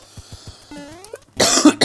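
A single harsh cough, loud and close, bursting out after quieter video-game blips and tones.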